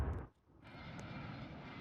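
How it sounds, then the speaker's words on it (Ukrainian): A military airplane in Roblox War Tycoon, a loud rushing engine roar that briefly dips then swells back and holds steady, close by, with no talk over it. "Це літак! Це літак, це літак,"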